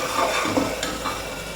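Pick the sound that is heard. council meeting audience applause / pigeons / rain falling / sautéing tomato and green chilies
sautéing tomato and green chilies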